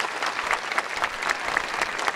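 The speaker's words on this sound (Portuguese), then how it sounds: "Vamos agradecer com mais uma calorosa salva de palmas, do jeito Romeira." Warm, dense applause from a congregation at a Mass honoring Padre Cícero, a steady wash of many hands clapping at once that holds for a couple of seconds.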